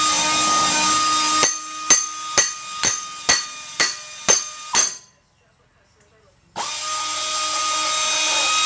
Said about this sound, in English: So I'm gonna undo these two screws here.